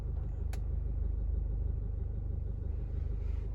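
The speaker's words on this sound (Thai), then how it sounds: "เัเสียงเครื่องยนต์ก็ ดังมา ก็ไม่เท่าไหร่นะครับ" A 2021 Isuzu MU-X engine idles with a steady, low mechanical rumble, heard close from inside or beside the SUV, with a brief click near the start and no talking.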